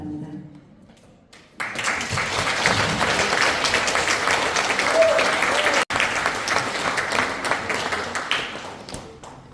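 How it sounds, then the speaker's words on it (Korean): An audience at a youth seminar in a National Assembly meeting room breaks into sustained, dense applause after a short quiet stretch, loud and close for several seconds before tapering slightly. "다시 한번 큰 박수 부탁드리겠습니다"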